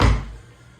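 A hotel room dresser drawer at Disney's Pop Century Resort shuts with a single close, dull thunk that fades quickly, no talking.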